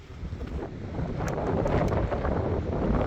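Outdoors atop the keep of a Crusader fortress overlooking the harbor, wind gusts rumble hard against the microphone, a continuous low roar that grows stronger midway and holds, with no voices.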